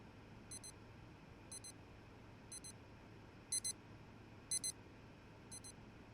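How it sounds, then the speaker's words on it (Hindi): Small wearable device sounding a heart-rate warning alarm: six short double beeps spaced about a second apart, faint but clear over a quiet, hissy room, with no talking. "मेरी हार्ट बीट का वार्निंग सिग्नल दे रही थी"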